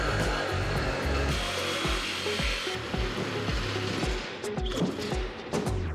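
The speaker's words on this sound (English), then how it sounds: "Nothing like a fresh Sawzall blade." Rapid rhythmic rasping of a Sawzall reciprocating saw with a fresh blade cutting through material on a navy barge, close and steady with quick repeated strokes.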